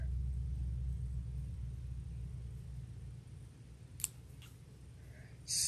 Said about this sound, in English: give it a little tug and let it hide in between those two layers and snip it off